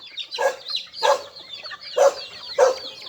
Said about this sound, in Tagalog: Ang dami ninyo mga anok.